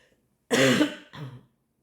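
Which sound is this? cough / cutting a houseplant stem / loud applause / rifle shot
cough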